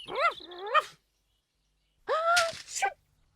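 Two short bursts of high, whining, bark-like vocalizations from the cartoon dog Bumpy in Noddy, close and clear, separated by a brief silence.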